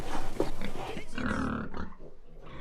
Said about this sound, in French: C'est un cochon.